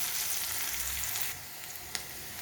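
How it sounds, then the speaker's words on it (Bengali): Chopped onions fry in oil with nigella seeds for a Bengali fish curry, giving a steady close sizzle that drops to a softer, quieter crackle partway through, with a brief sharp pop near the end. "আর দিয়ে দেব কেটে রাখা পেঁয়াজ। এবারে আমি হালকা করে ভেজে নেব।"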